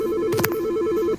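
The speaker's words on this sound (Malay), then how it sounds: "Telefon. Dah." A telephone rings in the Roblox game Night At Infirmary, a rapid warbling electronic trill lasting about a second, fairly loud over faint background noise, with a brief clatter partway through.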